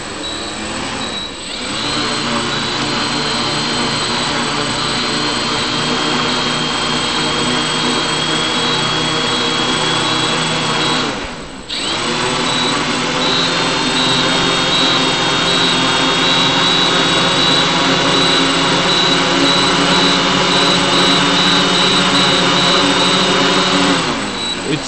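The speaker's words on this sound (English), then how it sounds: "Not all the propellers are spinning correctly." Multiwii octocopter with eight propellers spinning through full left and right yaw, a loud, steady jet-like whine and hum with two brief dips, one propeller reportedly not spinning correctly.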